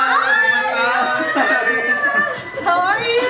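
Friends who are regular customers cheer and chatter as they come into a Jeonju restaurant run by an international couple, lively overlapping voices close by with bursts of exclamation.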